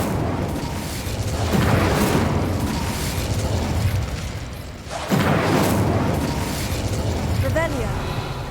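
Incendio fire spell cast in Hogwarts Legacy: two loud roaring bursts of flame about three and a half seconds apart, each swelling and lingering, with a voice and faint chimes nearby.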